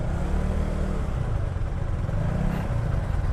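A small nine-year-old Yamaha Mio scooter engine drones steadily while riding, loud and close with constant road and wind noise and slight shifts in pitch.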